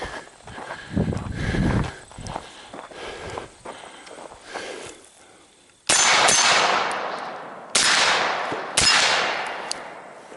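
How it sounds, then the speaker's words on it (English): A suppressed 11.5-inch rifle is fired at a 300-yard target outdoors: quiet handling and rustling sounds first, then three loud, sharp reports, each trailing off in a rolling echo. "the 300-yard shot, which is what I'm going to call the last shot of the day"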